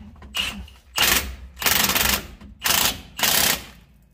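An impact gun lightly snugs bolts on a 2022 Ram 2500 with a 6.7 Cummins, rattling out in four or five short, loud bursts with brief gaps between them.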